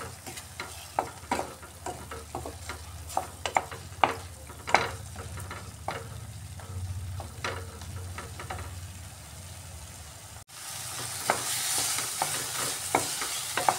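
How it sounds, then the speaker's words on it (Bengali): Spice masala sautéed in a pan for omelette curry, a continuous soft sizzle broken by repeated scraping and tapping of a spatula against the pan, with no talk. "মশলাটাকে আমি ভালোভাবে কষিয়ে নিচ্ছি।"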